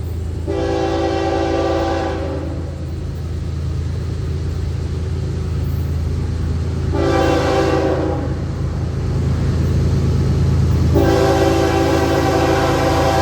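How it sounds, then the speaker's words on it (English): A heavy Florida East Coast Railway freight train rumbles steadily close by in St. Augustine as its horn blasts three times, two long blasts and a short one, loud over the rolling noise. "we got the Florida East Coast Railway daily train 105 rolling through St. Augustine here"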